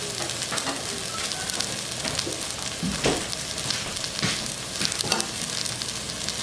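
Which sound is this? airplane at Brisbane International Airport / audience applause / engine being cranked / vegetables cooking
vegetables cooking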